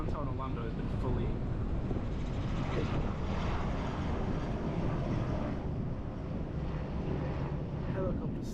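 A tour helicopter drones overhead above downtown Orlando during a stormy evening, a steady rumbling engine under wind noise and someone talking throughout.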